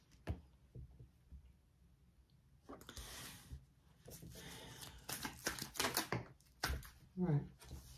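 Tarot cards are shuffled and riffled in quick, crisp bursts of papery slapping, close and fairly loud, with quieter handling between them and a voice speaking softly in the background.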